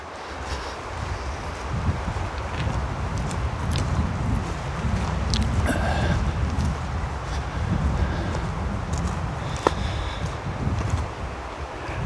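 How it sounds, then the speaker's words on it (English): Steady outdoor wind at an open hammock campsite, a continuous broadband rush with rustling gusts that stays loud and close throughout, with no voices. "as soon as we get into the open here, you can feel more of that wind"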